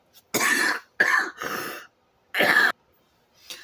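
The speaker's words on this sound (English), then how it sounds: "I started coughing, so I paused it and finished my cough" Several loud, close coughs in separate bursts with short pauses between them, then a fainter cough at the end; no talking.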